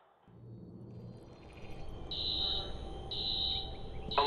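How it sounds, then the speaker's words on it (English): An alarm in the video game Watch Dogs sounds as repeated loud electronic beeps, each held for about a second with short gaps between, over a low ambient rumble. "Alarm's been tripped"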